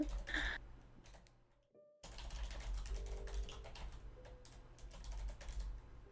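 Computer keyboard typing in quick bursts, close and fairly quiet, with a brief pause before a longer stretch of steady clicking keystrokes.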